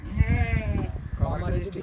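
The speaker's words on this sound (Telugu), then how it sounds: "ఈ రోజు మనం ఎన్ని గొర్రెలు అన్నవి వంద గొర్రెలు పిల్లలు ఎన్ని వచ్చాయనా" A flock of about a hundred sheep and lambs at a village farm in Telangana bleat close by, with repeated overlapping wavering calls while people talk nearby.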